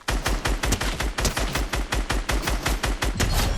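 Sustained rapid gunfire in Fortnite, loud and close, with sharp shots in a steady, relentless rhythm for the whole stretch and no talk over it.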